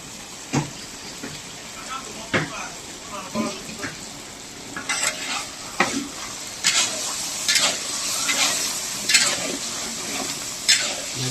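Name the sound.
capsicum and onion frying in pan for chilli fish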